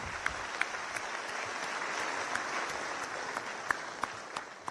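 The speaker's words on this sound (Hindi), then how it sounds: "तालियां रुकनी नहीं चाहिए प्लीज" At an award ceremony, an audience keeps up soft, continuous applause that sounds somewhat distant and quiet, with a few sharper individual claps standing out now and then above the steady patter.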